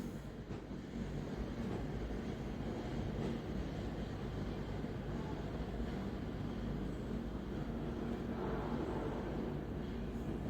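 Apollo Carmix self-loading concrete mixer with its engine held at slow RPM, a steady low rumbling drone that stays even and fairly loud for the whole stretch, with no talk over it.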